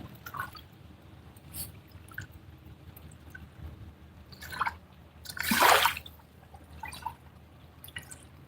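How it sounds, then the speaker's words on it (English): A large fish splashes out of a river in one sudden, loud splash midway through, surrounded by quieter drips and small water sounds in an otherwise calm outdoor scene. "That sounded like someone just jumping into the river."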